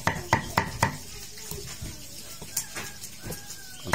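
A knife chops fish on a cutting board to make a filling, with several sharp knocks at the start followed by scattered lighter taps, close by and fairly loud, and faint bird calls in the background.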